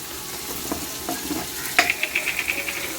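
Turmeric and homemade Malvani masala cooking in a pan, a soft steady sizzle with a few scrapes of a spoon and a run of quick rhythmic metallic taps near the end, close and clear.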